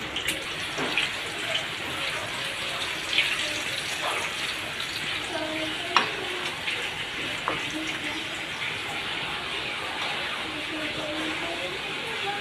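Eggs fry in hot oil in a pan, a steady broad sizzle running throughout with occasional small pops and clicks, moderately loud and close.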